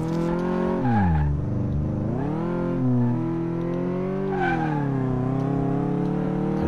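Car driven in Car Mechanic Simulator with wrecked rims: a loud, steady engine drone rises and falls in pitch as it revs and shifts, with tire scrubbing throughout, no voices.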